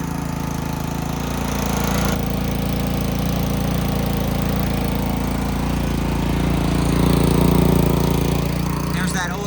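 A Honda small engine mounted on a stand runs without its blade, surging in speed. The steady, rough mechanical drone swells louder near the end, and voices are faintly present underneath.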